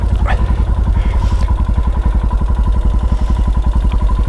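A Royal Enfield Himalayan motorcycle engine idles and chugs close up with a steady, rapid pulse on a narrow, greasy green-lane trail, with light mechanical clatter and no talk over it.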